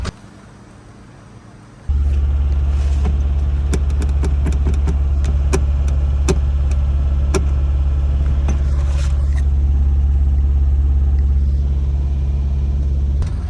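A farm car engine cranks and catches, then settles into a loud, steady low rumble of idling with scattered clicks and knocks over it.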